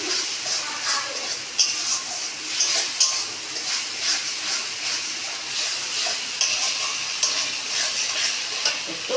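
Tomato paste fries and sizzles in a pan while being stirred for onion pomfret, a steady close sizzle broken by repeated scraping strokes of the spoon, with no voices.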